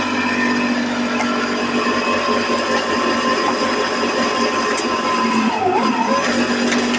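A motorized log splitter fitted with new blades strains as it pushes through wood, a steady mechanical hum with a motor tone that sags and wavers under load, fairly quiet and without talk.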